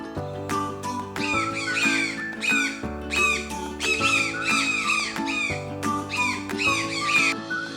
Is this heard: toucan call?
yes